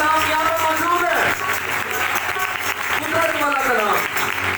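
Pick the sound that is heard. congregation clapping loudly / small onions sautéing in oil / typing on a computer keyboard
congregation clapping loudly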